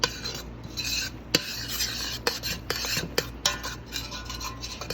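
A spoon stirs thick cherry compote with stevia in a pot, scraping steadily with sharp clinks against the metal sides in an irregular rhythm, close and clear with no talk.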